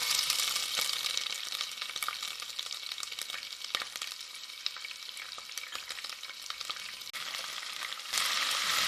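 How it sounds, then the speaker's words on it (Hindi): Ginger garlic paste frying with curry leaves and spices in hot oil, a steady dense sizzle with occasional stirring scrapes, close and continuous without talk. "और इसको भी थोड़ा सा फ्राई कर लेते हैं।"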